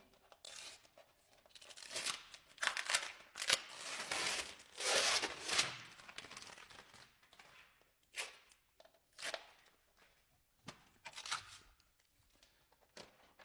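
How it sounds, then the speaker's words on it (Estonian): Old tape being peeled up off a floor while fitting an office cable protector: irregular ripping and crackling bursts, some long and some short, close by with quiet gaps between them and no talking. "Eemaldame vana teibi."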